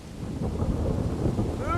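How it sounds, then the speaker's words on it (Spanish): Heavy rain pours steadily with a low thunder rumble in a medieval Kingdom Come: Deliverance game world, a continuous dense wash with no voices. "Me gusta como llueve a cagar"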